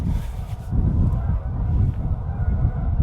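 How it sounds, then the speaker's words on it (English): Geese honk repeatedly at a distance over steady wind noise on a frozen lake, their calls overlapping in a continuous, noisy chorus. "those geese are loud"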